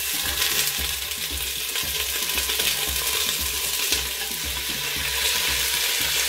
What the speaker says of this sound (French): Après avoir ajouté mes morceaux de poule